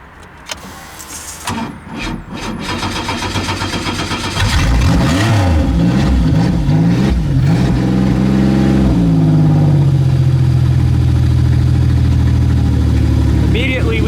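An old Buick Regal derby car engine cranks, catches and revs roughly, running poorly, then settles into a loud, uneven idle that carries on steadily.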